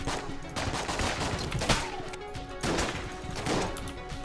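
Shotgun fire in the twin-stick shooter game Enter The Gungeon comes as a flurry of sharp, loud blasts and crashes, repeated in quick rhythmic bursts amid busy game effects.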